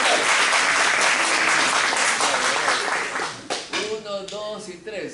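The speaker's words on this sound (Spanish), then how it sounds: "Pero el aplauso falta pues." Audience applause fills a science event hall, a dense steady clapping that fades after a few seconds as a voice begins speaking over the tail.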